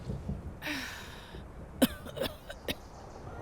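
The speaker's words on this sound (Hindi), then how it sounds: "माँ को खांसी हो रही है।" An elderly woman coughs in a few sharp, separate bursts, with a throat-clearing quality, heard alone against a quiet background.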